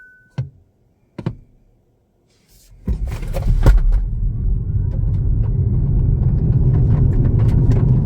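Kia EV6 electric car accelerating hard from 0 to 60, a couple of soft thumps giving way to a sustained low rumble of road and tire noise that builds and holds steady, fairly close and loud.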